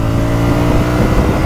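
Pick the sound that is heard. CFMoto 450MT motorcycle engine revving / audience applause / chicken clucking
CFMoto 450MT motorcycle engine revving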